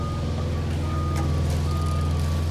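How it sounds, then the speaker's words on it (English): Concrete truck reversing at a driveway pour, a steady diesel engine rumble under a continuous high backup alarm tone, close and loud, with no talking. "Got another whole truck. Got another truck coming."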